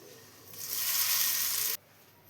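A hot tempering of fried chilli and curry leaves is poured into chutney, giving a sudden loud hiss and sizzle that holds for about a second and then cuts off sharply.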